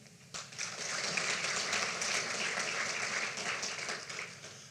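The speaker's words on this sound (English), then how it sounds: "Join me once again in giving a round of applause to the three speakers" An audience at a UN peacekeeping ministerial meeting in Kigali, Rwanda, starts clapping suddenly for three speakers, holding a fairly loud, even round of applause before it eases off slightly.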